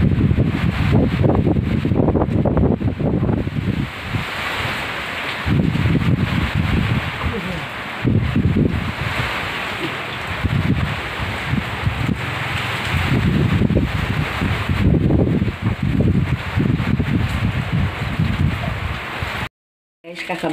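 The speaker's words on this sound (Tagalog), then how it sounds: "ang lakas ng ulan" Heavy rain and strong wind in the Philippines, a dense continuous roar with gusty rumbling swells and hiss that rise and fall throughout, loud and enveloping, briefly cutting out near the end.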